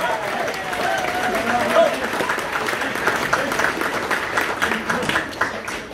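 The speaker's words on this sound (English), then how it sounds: "I think we deserve a round of applause as well." Sustained audience applause fills a folk music evening celebrating a folk band, a dense steady patter of many hands with some crowd voices mixed in, holding at an even level throughout.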